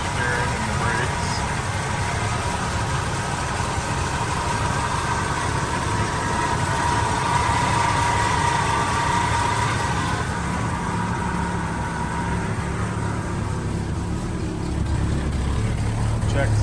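A 1976 Chevrolet C30 one-ton Cheyenne camper special truck idles steadily nearby, its low, even engine rumble continuous throughout with a faint hiss above.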